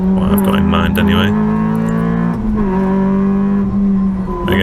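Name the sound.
rally car engine revving high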